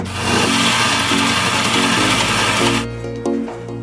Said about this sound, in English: So now what I'm going to do is cut 2 pieces, grind them flat,